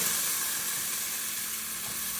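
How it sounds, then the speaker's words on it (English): Steady, dense sizzling of ham frying in a hot buttered pan, a continuous crackling hiss with no voices. "Alright, everything's sizzling."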